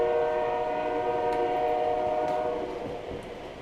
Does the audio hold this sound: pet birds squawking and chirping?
no